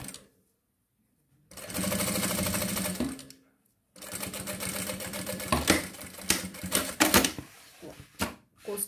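A sewing machine stitches a zipper onto a synthetic leather bag. The rapid mechanical whirring comes in close, loud bursts separated by short pauses.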